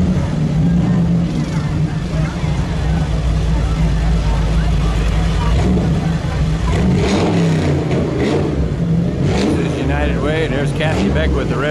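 A two-cylinder John Deere 'Poppin' Johnny' tractor rolls along in a town parade, its rumbling engine steady and loud throughout, mixed with crowd noise and a commentator talking over it.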